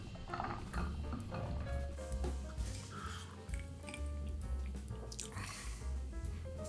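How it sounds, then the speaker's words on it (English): Ice cubes clink and tick softly as a White Russian of sherry-cask whiskey, Kahlua and cream is stirred, a faint irregular rattle of small clicks against the glass with no talking. "Ice and stir."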